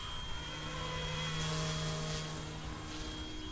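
An Eachine E186 Bell 206 RC helicopter in flight gives off a steady electric motor whine with a constant high tone and a low rotor drone, continuous and moderately loud.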